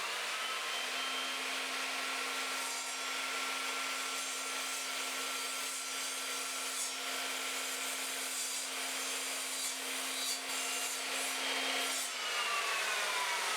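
An Evolution Rage 3 sliding mitre saw cuts through a piece of oak, its motor whining steadily while the blade rasps through the wood, loud and close throughout, with the motor tone dropping near the end.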